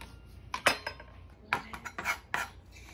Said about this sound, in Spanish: vamos a picar nuestros dos chilitos para ponerlos en el recipiente